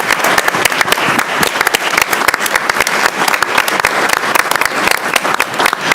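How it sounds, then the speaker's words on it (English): Loud, close applause for award winners at a Board of Education meeting, with crisp individual claps in a busy, steady rhythm lasting throughout. "How about one last round of applause for all of our award winners this evening?"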